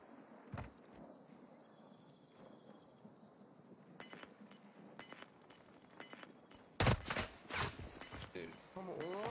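Sniper gunfire in the video game Warzone 2: a few scattered sharp cracks, then a louder cluster of shots near the end, mixed with game movement noise and faint talking.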